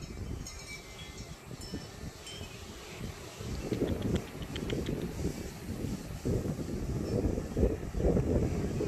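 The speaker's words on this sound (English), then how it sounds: "I'm sure you can hear that wind." Strong wind gusting across a microphone outdoors on a mild spring day in a puppy yard, a steady broadband rush that swells louder in the second half, with no voices.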